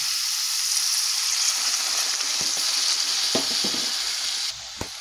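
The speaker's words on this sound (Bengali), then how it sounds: "এবারে একটুখানি জল দিয়ে দিলাম কষানোর জন্য" Spiced masala for a cauliflower and potato curry hisses and sizzles steadily in a pan after water is added, with a few sharp clicks from stirring near the end as the sizzle drops off.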